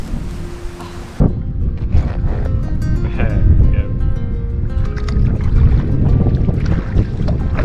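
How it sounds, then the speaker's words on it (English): Strong wind buffets the microphone on a choppy sea shore at Mount Maunganui, a loud, continuous roar with water and boat noise beneath and people talking intermittently. "it's fairly choppy, it's fairly windy"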